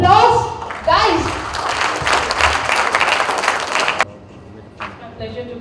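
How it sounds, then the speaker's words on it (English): A college audience at a freshers party breaks into loud applause for a student author of poems and stories. The clapping follows a spoken introduction and cuts off abruptly after about three seconds, leaving quiet room noise. "With a huge round of applause, guys"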